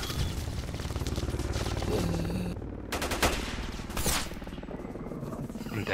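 Gunfire in the video game S.T.A.L.K.E.R: Call of Misery: rapid automatic bursts mixed with heavier single shots, loud and echoing, some sharp cracks standing out near the middle.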